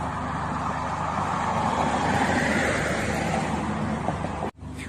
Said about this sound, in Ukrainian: Машини їздять